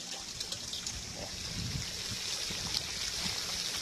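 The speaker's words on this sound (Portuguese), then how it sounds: "fica jogando água para fora" Water sprays and trickles steadily from a duck-bill nozzle at a water tank under pressure, a continuous close hiss and splash with no speech.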